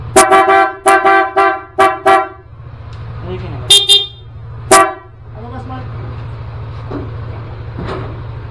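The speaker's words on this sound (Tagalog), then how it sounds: "Stock horn." A Yamaha Aerox S motorcycle's stock horn honks in a series of short, sharp toots, then a couple more after a pause, over a steady engine idle with people talking nearby.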